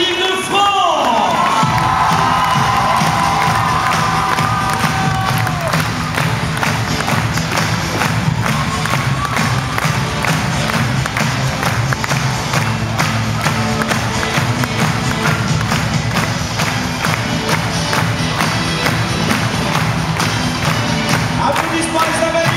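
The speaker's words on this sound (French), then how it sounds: "je vous demande une nouvelle fois de faire une ovation à l'équipe de France" A loud arena crowd gives a sustained ovation to the France women's basketball team after their match against Canada, with continuous cheering, whoops, shouts and thumping claps throughout.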